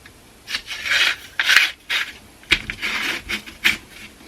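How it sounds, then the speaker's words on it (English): LED strip light diffuser, protective film removed and cut edges smoothed, slid by hand into its channel: a series of about eight short scraping rasps in uneven rhythm, close and clear, with no talking. "Slide in the diffuser."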